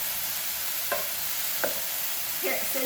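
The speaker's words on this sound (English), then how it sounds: "Here, it's sizzling." A chicken, broccoli and mushroom stir fry sizzles steadily in a hot pan, a dense close hiss broken by a few light scrapes and stirs.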